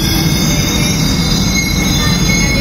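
A Buenos Aires subway train's wheels screech steadily against the rails, a loud, continuous metallic squeal over the rumble of the moving carriage, with no voices.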